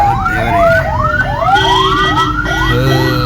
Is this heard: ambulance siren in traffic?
yes